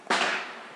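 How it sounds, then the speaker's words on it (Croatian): A single sharp firecracker bang goes off outdoors, a sudden loud crack followed by a short decaying rumble. "Neko puca. Petard"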